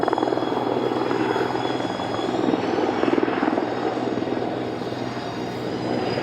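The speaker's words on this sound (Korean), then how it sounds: "지금 다가오는 게 S-64 초대형 헬기죠" A loud Sikorsky S-64 heavy-lift helicopter approaches, droning steadily with thumping rotor noise and engine roar, holding close and strong throughout, no voices.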